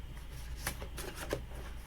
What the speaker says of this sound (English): You're basically hearing me like not be able to shuffle